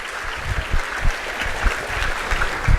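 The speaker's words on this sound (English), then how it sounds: "Clap for that." A small audience at a university leadership talk claps unevenly at a moderate level, with a few louder claps standing out.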